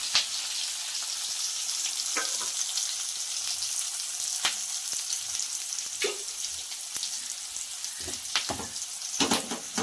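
Steady crackling sizzle of onion frying in oil as tempering for dal, with occasional sharper pops and clinks of stirring, no voices.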